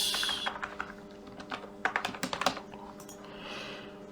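Fingers type on a computer keyboard while filling in an Indian passport renewal form online, with scattered keystrokes and then a quick burst of clicks near the middle, close and crisp, with no voices.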